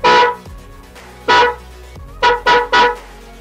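A loud motorcycle horn blasts nearby in a pattern of one long honk, another, then three quick toots, ringing out alone with faint background hum between.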